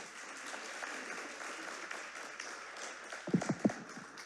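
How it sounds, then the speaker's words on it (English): A gala audience applauding steadily for several seconds, with a few sharp, louder claps standing out near the end. "Let's give them one more round of applause."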